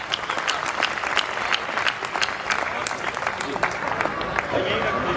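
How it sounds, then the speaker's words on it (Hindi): Sustained audience applause at a Hindi comic poetry gathering (hasya kavi sammelan) at a school, dense steady clapping from a crowd filling the room with some background voices mixed in. "मैं एक बार मुझे तालियों से आदेशित करें"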